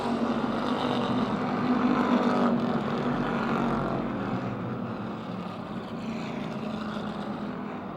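Race cars on the oval at Motordrome Speedway during green-flag racing, a steady broad engine roar that swells around the midpoint and then eases slightly, continuous with no talk.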